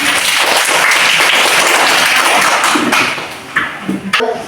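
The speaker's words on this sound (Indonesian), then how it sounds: "tepuk tangan untuk semua" Students in a Pancasila class applaud together, a loud, dense burst of clapping lasting about three seconds before fading into scattered claps and faint voices.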